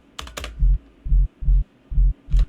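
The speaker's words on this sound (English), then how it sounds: "using an EQ to cut out all the higher frequencies and keeping that sub in there" Deep synth sub bass for a riddim/tearout track, with the higher frequencies cut away by EQ, playing five short, heavy rhythmic hits in a steady pattern, a few brief brighter noisy bursts around them.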